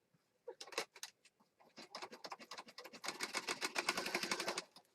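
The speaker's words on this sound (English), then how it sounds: "Takes a little longer because you kind of have to feed it underneath the presser foot" A sewing machine stitches a paper junk journal page in quick bursts of rapid needle clatter, short starts and stops that build into a longer steady run, close by and without speech.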